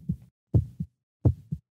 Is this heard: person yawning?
no